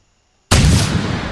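A single loud gunshot from a .308 handgun in theHunter: Primal, a sudden close blast after silence with a long rumbling tail.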